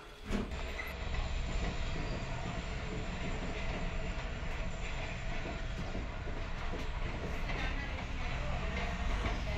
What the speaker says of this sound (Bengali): বাড়ির সামনে রেল লাইন, তো রেল লাইন দিয়ে দেখো ট্রেন যাচ্ছে